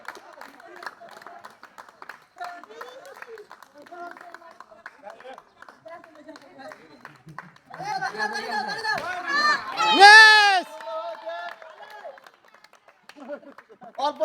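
Spectators at a village blindfolded pot-breaking contest clap lightly and unevenly, soft scattered claps under chatter, before loud excited shouting and children's voices rise over them partway through.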